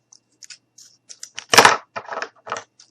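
Cardboard is snipped and cut while making a cardboard dumpster, with a quick series of short, close, crisp cuts and one louder tearing crunch in the middle, in otherwise quiet surroundings.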